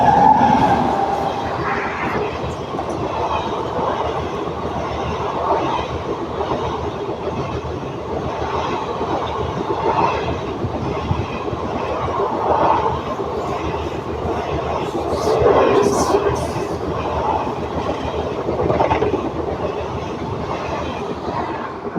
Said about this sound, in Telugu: నర్సాపూర్ నాగర్సోల్ ఎక్స్ప్రెస్ అని క్రాస్ చేసుకుంటూ వెళ్ళింది